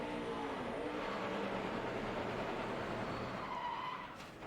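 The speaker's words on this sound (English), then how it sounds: "That was unbelievable wheel hop getting down in that corner." A NASCAR Cup race car in 2009 suffers violent wheel hop entering a corner, giving a loud, sustained scrubbing, skidding roar of tires and engine that fades slightly at the end, with no talk.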